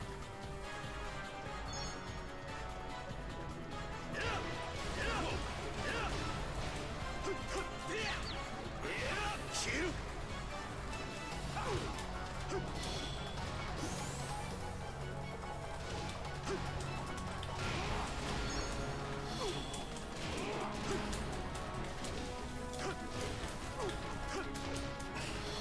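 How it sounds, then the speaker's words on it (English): Glass shattering in the fighting game Tekken 6, repeated crashes and smashes scattered through a dense, loud mix of game music, hits and whooshes, with someone talking over it. "See all the glass breaking?"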